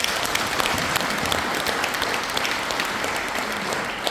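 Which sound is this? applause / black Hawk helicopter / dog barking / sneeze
applause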